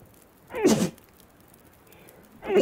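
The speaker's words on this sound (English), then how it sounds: "Excuse me, guys, sneezing." A person sneezes once, close and sharp, with a bright burst that fades quickly; a second similar burst starts just as it ends, over a quiet background.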